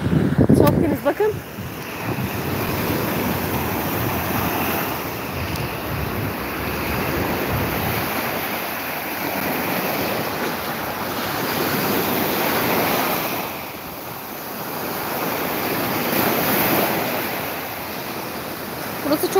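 Black Sea waves rolling onto a long sandy beach at Akliman, Sinop, a loud continuous surf wash that swells and recedes in slow cycles, with wind buffeting the microphone and no talk.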